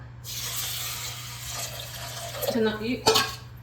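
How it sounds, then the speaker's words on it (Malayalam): Water pours steadily into a cup, a soft continuous rush, followed by a couple of light clinks near the end. "ഈ കപ്പിൽ 4 കപ്പ് വെള്ളം ഒഴിച്ചു."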